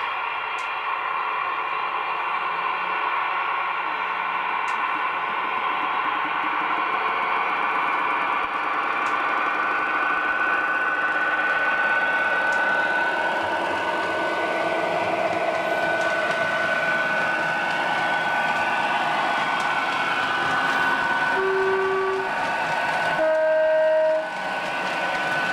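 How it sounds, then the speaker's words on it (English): Hornby model train running in diesel sound mode, giving a steady synthetic engine drone with tonal hums and a couple of short horn-like tones near the end, continuous and fairly close. "So turn on the diesel. So that then cuts out the electric sound. You just get the diesel mode,"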